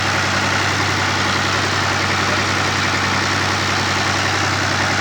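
An Al-Ghazi tractor engine drives a fodder chaff cutter, a loud, close, unbroken mechanical drone with a steady low throb and dense rattling hum, no voices.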